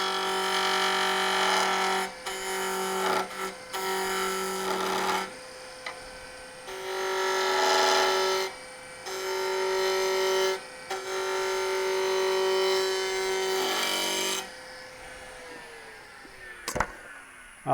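A negative rake cutter shaving a faux lotus pod bottle stopper blank on a lathe, giving loud, bright, sustained tonal cutting whines in several long bursts separated by short pauses, ending with fading rundown tones.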